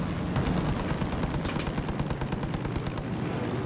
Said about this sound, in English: And he's shooting me